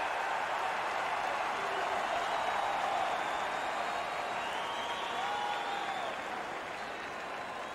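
A hockey crowd cheers and applauds in a steady, dense roar that fills the whole stretch and fades slightly toward the end, with no clear voices on top.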